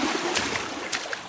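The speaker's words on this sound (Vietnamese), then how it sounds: "Xả nước nào." A toilet flushes in a bathroom, a steady rush of water swirling and draining with a few splashy bursts, fairly close and heard on its own.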